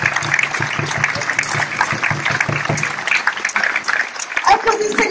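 A crowd claps at the opening of a medieval festival in Josselin, with scattered, uneven handclaps running beneath a loud announcer's voice.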